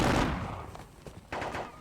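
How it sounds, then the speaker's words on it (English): A massed infantry musket volley in a Seven Years' War strategy video game crackles out in a loud opening burst that fades, then a second ragged volley follows after a short pause. "They will fire at these guys."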